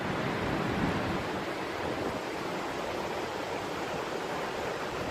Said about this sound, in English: We're standing out in the pouring rain doing this.